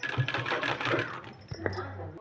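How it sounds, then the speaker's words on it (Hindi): A sewing machine stitches along a folded 1.5-inch fabric strip for a sleeve design, giving a brief mechanical run of rapid needle clatter with a sharper tap near the end, fairly close. "और सिलाई लगा लेना है हमको।"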